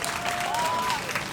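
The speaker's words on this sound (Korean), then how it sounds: "박수 부탁드리겠습니다" A short, fairly faint patter of applause from an audience at an outdoor civic event in Uijeongbu, a diffuse wash of clapping heard from some distance.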